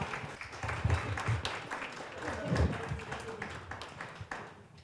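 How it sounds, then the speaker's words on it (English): A live-broadcast audience at an Africentric learning institute gathering claps for a guest, scattered and uneven hand claps mixed with knocks and movement, with voices talking over it. "Let's give Zing a round of applause for being here"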